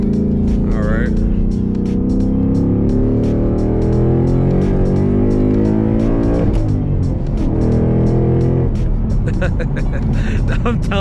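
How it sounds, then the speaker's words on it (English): A Ford Mustang GT 5.0 V8 roars loudly under throttle from inside the car, its engine rising and holding in strong sustained revs with a brief lift and surge near the end. "We're gonna give it some throttle."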